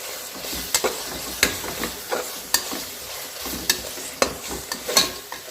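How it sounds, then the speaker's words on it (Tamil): Green chillies being stirred in a frying pan, with repeated sharp scraping strokes of a spoon against the pan over a steady sizzle, close and fairly loud, no voices. "இப்போ இதில் பச்சை மிளகாய் சேர்த்துக்கலாம்."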